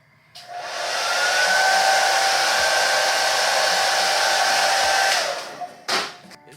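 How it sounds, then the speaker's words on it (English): A blow dryer switches on and runs loudly with a steady rushing whine for several seconds, then shuts off, followed by a brief rustle. "I can't say that because the blow dryer is loud"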